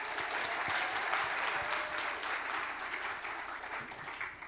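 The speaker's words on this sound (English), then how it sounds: "Let's give another round of applause." An audience at a college of medicine arts holiday showcase applauds after a performance, a full sustained wash of clapping that holds steady and then slowly thins toward the end.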